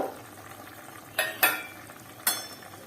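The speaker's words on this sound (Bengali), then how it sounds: "একটু নাড়িয়ে নিলাম।" Fried eggplant is stirred into a simmering small-fish curry with potatoes and lentil dumplings. A quiet bubbling bed is broken by three sharp utensil scrapes against the pot.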